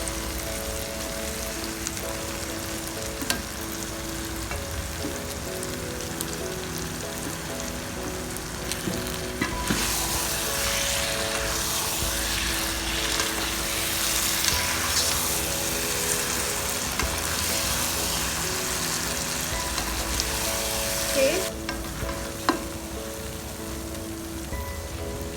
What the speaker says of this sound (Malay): Okey, sekarang saya nak masukkan ikan yang telah digoreng.